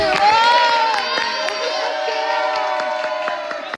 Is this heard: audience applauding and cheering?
yes